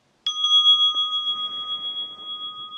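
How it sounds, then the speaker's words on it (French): A small gong or bell is struck once to start a timed yoga pose, then rings as a clear, pure metallic tone that decays slowly and stands alone in quiet surroundings. "quand le gong retentit"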